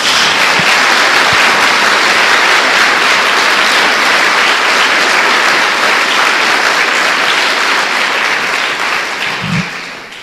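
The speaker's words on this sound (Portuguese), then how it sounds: "Dê uma salva de palmas a Jesus" Sustained applause from a church congregation, loud and even for about ten seconds before it begins to taper off near the end.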